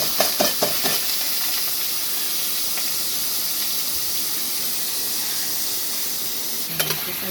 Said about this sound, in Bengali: আগে আলুটা ভেজে নেব